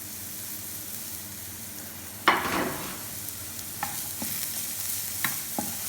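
Mushrooms and onions fry in a pan with a soft background sizzle, then a utensil stirs them with a sudden scrape and several lighter clinks and sizzling bursts afterward.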